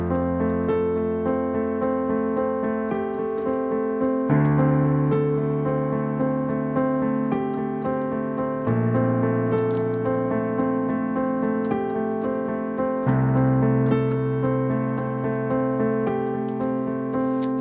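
Solo piano plays a steady accompaniment pattern cycling through four chords from a song, with sustained bass notes shifting every few seconds under repeating broken-chord figures, clear and close with no talking.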